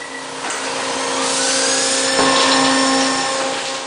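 McLean scissor bolter drilling in a mine drift on a single pass, a loud, steady mechanical whine and grinding roar with tonal motor hum that swells slightly midway and holds, close and continuous without voices.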